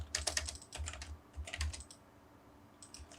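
AutoCAD commands are typed on a computer keyboard in quick clusters of crisp key clicks, with a heavier thump of a key press between bursts, close up and alone.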